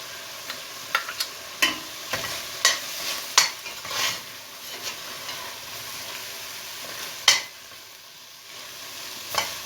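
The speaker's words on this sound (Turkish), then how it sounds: "biberlerimi ve sarımsağımı atıyorum" Peppers and garlic hit a hot pan over onions and fry for an aubergine kebab, with a steady sizzle broken by repeated sharp stirring clicks and scrapes, close and fairly loud, no voices.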